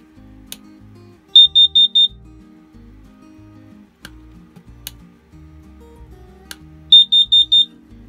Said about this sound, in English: Don't assume that a brand new detector works. Check the audible sound tester.